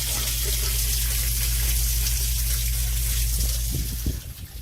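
A half-horsepower Liberty sump pump runs steadily, pushing snowmelt water through a drainage line with a constant low hum and rushing flow that breaks up into a few splashes near the end.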